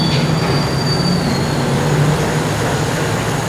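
ASOMTOM RV3 electric bicycle with a 36V 13Ah battery and 350W motor at full throttle: a steady, close whirring hum with a thin high whine that drifts across the few seconds, with no talking.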